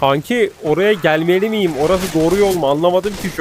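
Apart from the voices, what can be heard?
No everyday noises stand out.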